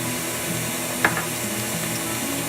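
An electric mixer whirs steadily through gluten-free chocolate pumpkin cheesecake batter, a continuous buzzing hum with one brief clink of the beaters against the bowl partway through and no talking.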